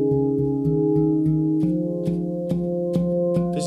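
A low note struck on a steel handpan rings out, repeated in a steady rhythm of soft strikes about twice a second, each blooming into a warm, sustained metallic hum, close and clear with no talk.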